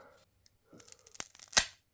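A plastic Daiso 1,000-won vertical laptop stand is cut with scissors at close range: a few crisp snips and a tearing crunch, ending with one sharp, loud cut.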